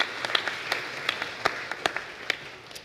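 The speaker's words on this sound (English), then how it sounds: "And can we give a round of applause to Liz Sherman" Audience applause at a synagogue program, light and scattered, with a handful of distinct claps spread across a few seconds over a quiet room.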